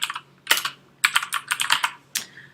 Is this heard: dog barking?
no